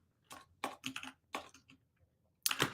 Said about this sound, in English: let's wake up my keyboard.